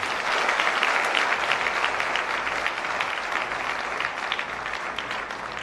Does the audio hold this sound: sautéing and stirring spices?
no